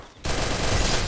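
Gunfire in the Garena Free Fire video game, a sudden rapid burst of shots that starts abruptly and holds loud for about a second.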